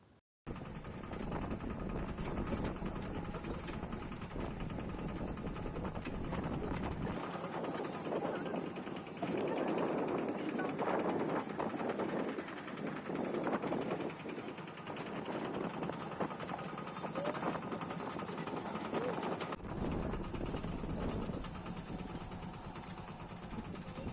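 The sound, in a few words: Land Master two-wheel tractor engine during ride around village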